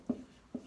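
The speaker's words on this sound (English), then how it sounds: "I'll write that down for you." Two short taps or strokes of writing on a board, spaced about half a second apart, quiet and close.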